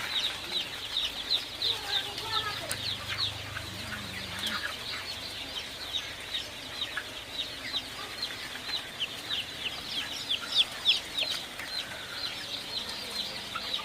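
A brooder holding 1,500 Sonali Super hybrid chicks fills with dense, continuous high peeping and chirping from many birds at once, steady and close throughout.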